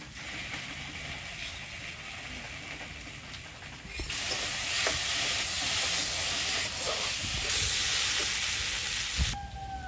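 Cumin paste frying with potatoes and spices for a Bengali chickpea-lentil dalna, giving a steady broadband sizzle and hiss that swells louder after a few seconds, with occasional faint clicks of stirring and no talk.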